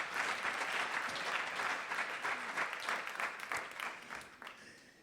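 Church congregation applauding during a sermon, a dense, steady round of clapping from many hands close by that holds for several seconds and then thins out and fades toward the end.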